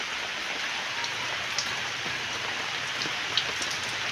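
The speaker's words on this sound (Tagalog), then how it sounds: "Tuwa naman ng halaman sa ulan." Steady rain falls on garden plants, a dense, even hiss of drops with a few louder drips standing out, continuous and close with no voices.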